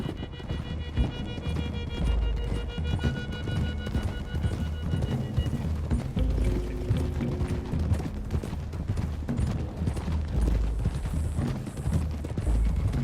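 Horses galloping in the video game Red Dead Redemption 2, with steady clip-clop hoofbeats running loud throughout under a dense layer of music and ambient game sound.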